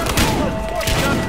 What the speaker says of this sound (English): 13 reporting shots fired, Arcola Projects.